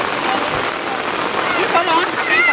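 Heavy rain falling over a vegetable garden where ripe okra is being picked, a dense continuous hiss of drops on surfaces, close and loud throughout, with birds chirping faintly through it.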